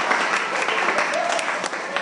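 Applause in a church, a dense burst of many hands clapping at close range, continuous through two seconds with faint voices mixed in.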